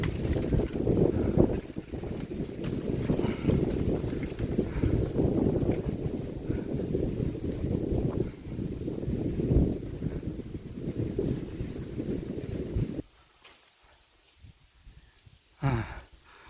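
Wind gusts buffet the microphone in heavy, uneven low rumbles during outdoor kite flying in weak low-level wind, then drop away abruptly to near quiet before a short final gust.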